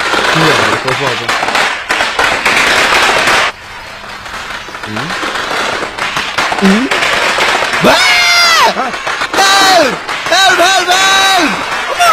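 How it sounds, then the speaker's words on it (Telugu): Firecrackers burst in a residential colony in a Telugu comedy film scene: sharp crackling pops at first, then several rising, whistling rocket streaks, with voices talking over the noise. "దీపావళి కాదు కానీ క్రాకర్స్ పేలుతుంది."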